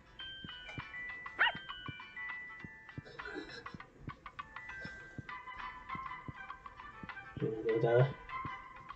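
A dog barks in short intermittent yelps amid a cluttered game-like mix of chimes, beeps and tones, fairly faint throughout.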